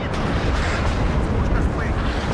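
Rocket strikes from a WARNO battle hammer targets as a dense, continuous rumble of booms and blasts, loud and close, with no gaps between impacts.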